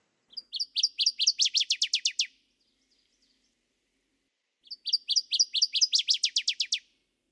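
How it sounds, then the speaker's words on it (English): A northern waterthrush sings two clear, loud songs separated by a pause. Each is a rapid series of bright, accelerating chips that ends in a quick flourish, against a silent background. "when I hear a northern water thrush, I get excited because to me it sounds similar to a Connecticut"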